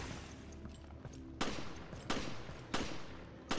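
Gunfire in the video game Resident Evil: Revelations cracks out in three sharp, loud bursts about a second apart over a low ambient background.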